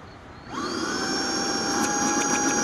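A clogged Tineco Pure One cordless vacuum cleaner switching on, its motor whining up in pitch and then holding a steady, close hum with a breathy airflow hiss.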